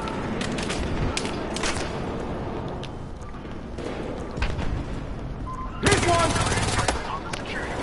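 Rapid gunfire bursts from a Battlefield Hardline match, with the Scorpion among the weapons, sharp repeated shots over a busy background and a loud stretch near the end, while a player talks throughout.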